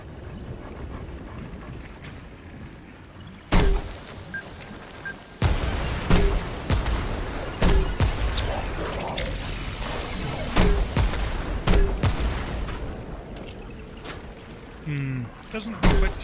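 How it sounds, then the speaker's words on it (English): A grenade launcher fires in the video game Remnant 2, set in the sewers: several sudden loud booming blasts at irregular intervals cut through a constant rushing, windy background. "We're gonna try out our new grenade launcher."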